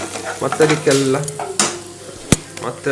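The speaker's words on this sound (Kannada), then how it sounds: "ಟೊಮೆಟೊ ಹಾಕಿ ಚಂದ ಫ್ರೈ ಮಾಡಬೇಕು" Tomatoes frying in a pan as the base for an egg curry, a soft sizzle with stirring scrapes and a sharp utensil knock near the end, under intermittent home-kitchen speech.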